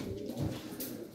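Pigeons coo softly at a live pigeon auction in Turkey, a low, muffled burbling call heard briefly amid faint background noise.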